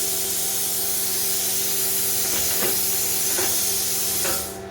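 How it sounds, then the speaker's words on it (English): ArcCaptain Cut55 plasma cutter slicing through aluminum, a loud continuous hissing roar with a steady electrical hum underneath and a few crackling pops, cutting off abruptly at the end. "It cuts that aluminum like it's butter."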